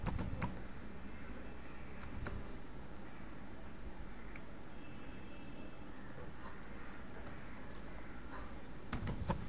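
Soft, steady typing on a computer keyboard while entering a username into a sign-up form, faint scattered key clicks over a constant low background hum.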